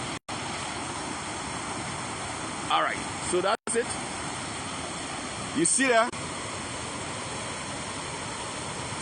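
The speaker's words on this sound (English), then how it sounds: "This is the KPATAWEE waterfall, folks." Rushing water at Kpatawee waterfall in Liberia, a steady broadband roar running throughout the clip, with someone talking over it at moments.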